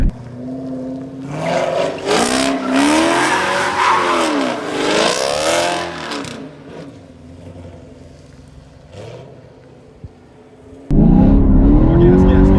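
A car doing donuts revs hard, its engine rising and falling in sweeping bursts with tire noise for several seconds, then quieting before another loud burst of revving near the end, with occasional voices inside the car.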